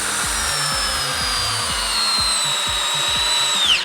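A Milwaukee 12-volt hammer drill at speed 1 drives a big screw, its close motor whine holding steady over a stuttering, rhythmic low chatter of the clutch and screw biting, then winding down sharply at the finish.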